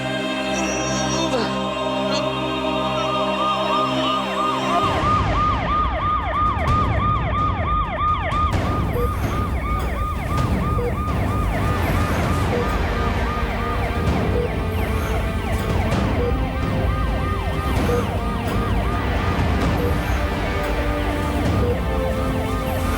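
A wailing ambulance siren sweeps up and down repeatedly, loud and close, over the low rumble of road traffic.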